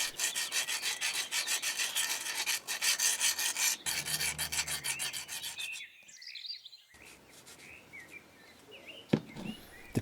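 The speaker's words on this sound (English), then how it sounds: "Any excess sand caused by the split line can be easily scraped away." In a home workshop, excess sand is scraped from a model steam engine casting mould with close, steady rasping strokes for several seconds, then a pause and a few lighter scrapes, with faint birdsong in the background and no talking.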